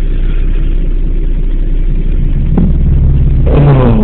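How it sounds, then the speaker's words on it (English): A BMW car passes close by, its engine rumbling steadily and then swelling with a brief rev near the end, loud and without anyone talking. "I just saw a funny ass BMW drive by."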